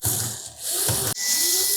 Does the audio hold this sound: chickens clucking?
no